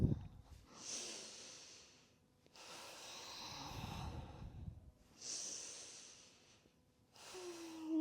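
Slow, audible yoga breaths during a flowing spine stretch, with long airy exhales alternating with inhales in a steady rhythm, close and fairly quiet, no talking.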